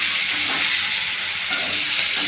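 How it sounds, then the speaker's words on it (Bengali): Onion sizzles in hot oil in a pan, a steady, dense hiss that holds constant and close throughout. "আমি পেঁয়াজটা ছেড়ে দিলাম তেলের মধ্যে"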